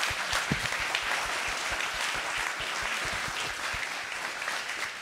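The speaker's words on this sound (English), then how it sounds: "A round of applause" Applause from the audience at a Nature Conservancy talk on the Florida panther, a steady, even patter of many hands clapping, moderately quiet and sustained throughout with no talking.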